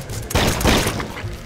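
Gunfire rattles in the zombie video game Run!ZombieFoods, a short burst of rapid shots that swells, dips and returns within a second and a half.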